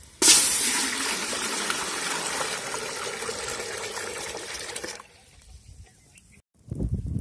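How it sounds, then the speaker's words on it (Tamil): Water pours steadily into a pot for boiling chickpeas, a loud, continuous gushing that stops abruptly; a voice briefly follows. "கொண்டக்கடலை வேக வைக்க தண்ணி ஊத்திக்கலாம்."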